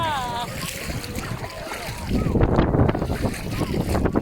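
A toddler splashes in a pool while swimming with a foam pool noodle, with a burst of water splatter growing busier midway, heard close up beneath a woman's chatter and a voice.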